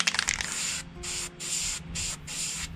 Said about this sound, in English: Let me get this one sprayed on this side here now.